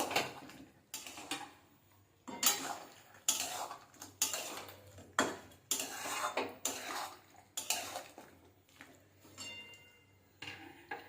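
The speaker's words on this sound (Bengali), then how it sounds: "দশ মিনিট হয়ে গেছে মাংসটা একবার নেড়ে নেব" Chicken meat is stirred in a pan with a metal utensil, giving a series of close scraping and clattering strokes against the pan, with brief pauses between them.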